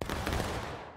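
A rifle volley fired on command in a virtual reality battle, a single rolling crack of massed shots that dies away into a fading echo within a second.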